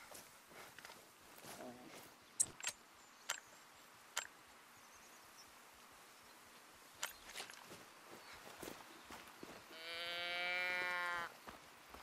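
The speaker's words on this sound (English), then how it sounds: "that's a cow." A cow moos in the hunting game theHunter: Call of the Wild, one drawn-out low call rising near the end, after a stretch of scattered footsteps and sharp ticks over a faint outdoor background.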